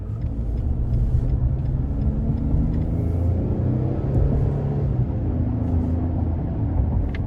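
2022 Nissan Frontier SV King Cab pickup accelerating onto an interstate with manual shifts, heard from inside: a continuous low engine drone that climbs in pitch, dips at each gear change, then climbs again.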